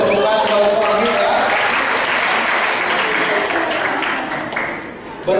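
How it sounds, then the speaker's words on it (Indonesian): A room full of people applauds for Bu Amin at a talk, with steady, dense clapping that holds loud for about five seconds before thinning slightly near the end, while some voices mingle beneath it. "Berikan tepukan kepada Bu Amin ya"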